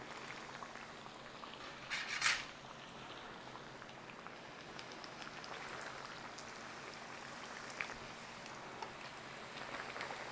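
Salmon fishcakes fry in hot oil in a pan, giving a faint, steady crackle and patter of sizzling, with a couple of slightly sharper pops over the quiet, continuous hiss.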